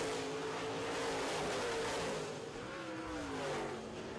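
Late model race cars racing at a dirt track, their engines a continuous droning roar that swells and fades slightly as the pack passes at a distance, with no voices.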